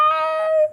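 A dog howls in a single short, loud, sustained tone that holds steady and then cuts off, with no one talking over it.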